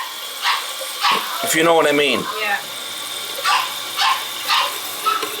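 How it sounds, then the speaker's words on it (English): A small Chihuahua yaps in short, sharp barks, about six spaced across the stretch at a steady rhythm, moderately close. Someone speaks briefly in the middle, indoors near a bathroom toilet. "Well, the dog's a little yapper"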